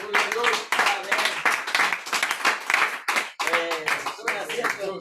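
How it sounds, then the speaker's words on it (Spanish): A congregation in church claps in uneven bursts that rise and fall, close by, mixed with voices calling out between the waves of clapping. "Dele un buen aplauso al Señor"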